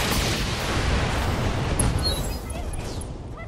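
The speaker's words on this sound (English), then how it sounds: "Ammo explosion." An ammo explosion in the mech combat video game BattleTech, a loud sustained roaring blast with rumbling debris that slowly tails off.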